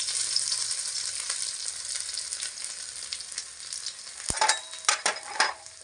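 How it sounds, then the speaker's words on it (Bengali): Chopped onion and garlic frying in hot oil give a loud, bright, continuous sizzle that gradually settles, with a few clattering stirs of a spoon against the pan near the end. "এবার খুব ভালো করে রসুন আর পেঁয়াজ নাড়াচাড়া করে নেব।"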